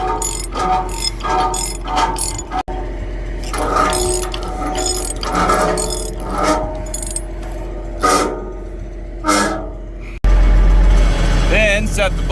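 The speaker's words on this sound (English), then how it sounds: "Then the rods, start tightening them up." A ratchet tightens the rods on a Veda Farming Roma 700 laser scraper, giving repeated clicking bursts in uneven runs over a steady machine drone, followed by a loud engine or hydraulic surge near the end.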